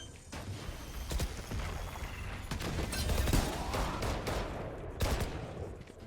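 Gunfire in the video game Valorant comes as rapid bursts of sharp shots and clattering mechanical sounds, close and fairly loud, with no talk.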